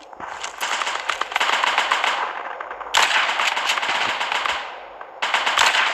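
Rapid automatic gunfire from a war video game rattles in long sustained bursts, broken by brief pauses, loud and close with almost no voice over it.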